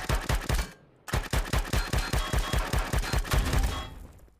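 Rapid automatic gunfire from a weapon in the space survival game Empyrion, fired in two loud bursts of evenly spaced shots separated by a short pause, with no voices over it.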